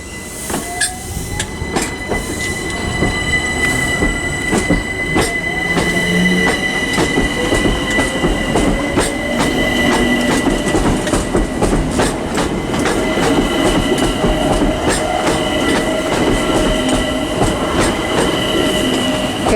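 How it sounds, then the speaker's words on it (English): A London Overground class 378 electric train pulls out of Watford Junction on the West Coast Main Line, bound for London Euston. Its wheels and motors rumble loudly and steadily throughout, with rail clatter and high squealing tones. "Departing S378221 on the London Overground service to London Euston"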